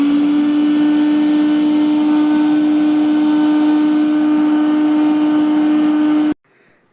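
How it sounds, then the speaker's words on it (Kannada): A kitchen mixer grinder runs steadily for about six seconds, blending cream with a little added water into butter, with a loud, even motor whine that cuts off abruptly near the end. "ಅದಕ್ಕೆ ಸ್ವಲ್ಪ ನೀರು ಹಾಕ್ಕೊಂಡು ಮತ್ತೆ ಸ್ವಲ್ಪ ಮಿಕ್ಸಿ ಮಾಡ್ಕೋಬೇಕು."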